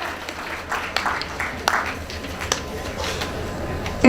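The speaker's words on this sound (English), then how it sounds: "Please give yourselves a round of applause for being here this evening, this late." Scattered, moderate applause from an evening audience at a family induction ceremony in Los Angeles, uneven claps with a few sharper hits rising and falling over about four seconds.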